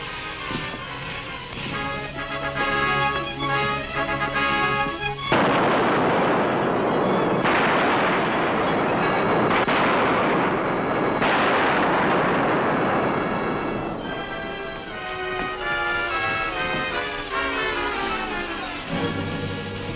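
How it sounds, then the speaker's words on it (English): Gunfire in a 1941 western film: a dense, sustained burst of shots rumbles in the middle, set between stretches of orchestral score. "What did those shots mean?"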